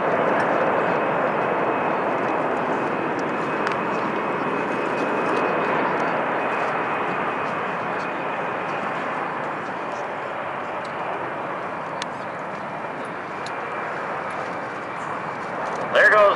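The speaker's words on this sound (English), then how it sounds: "Big C-17 Globemaster 3 departing from March Air Force Base." A Boeing C-17 Globemaster III military transport jet departs March Air Force Base, its broad steady engine roar holding through the clip while a voice talks over it.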